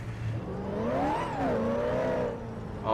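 A car engine in GTA V revs up and down, a close whining drone whose pitch swells, falls and rises again, with no talk over it.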